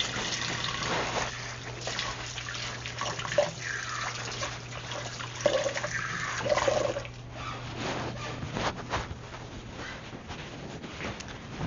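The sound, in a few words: washing hands at a running tap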